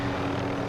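Helicopter engine and rotor drone in Call of Duty: Modern Warfare, a loud, steady hum with a sustained tonal whine, heard alone for under a second.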